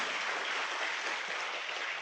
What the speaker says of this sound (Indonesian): silakan kamu tepuk tangan